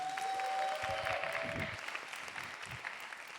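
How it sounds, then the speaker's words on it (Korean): Audience applause opening a professor and student council talk show at a university science and technology college festival, a fairly faint steady patter of many hands that eases off in the second half. "큰 박수 부탁드리겠습니다"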